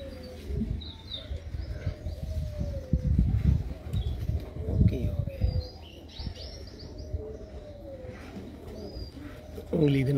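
Breeder pigeons coo and chirp around people handling them, with voices talking close by and a few handling bumps between the calls.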